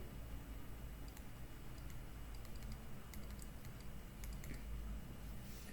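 A computer keyboard being typed on while a C program is written, with faint, sparse key clicks over a steady background hiss.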